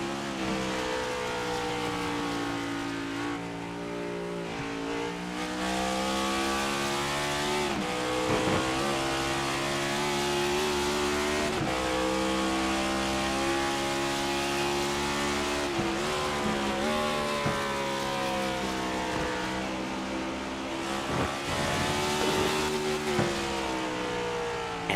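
Onboard race car engine in the iRacing sim at Watkins Glen during an Octane Series race, a loud, steady high-revving drone that rises and drops sharply with each gear change and braking zone, heard alone throughout.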